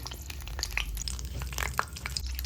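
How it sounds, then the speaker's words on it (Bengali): Steady, soft sizzling of dry chillies, bay leaves and cardamom frying in hot oil, with occasional crackles and light stirring scrapes throughout. "দুটো তেজপাতা দিয়ে একটু ভেজে নেব ওগুলো"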